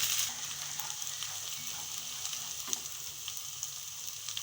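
Ginger garlic paste fries in a pan for a fish pulao with a steady, close sizzle and crackle, the sound continuous and even with occasional soft stirring.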